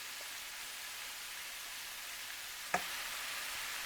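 Mushrooms and vegetables saute for spaghetti sauce with a steady, even sizzle throughout and one brief knock partway through, no voices.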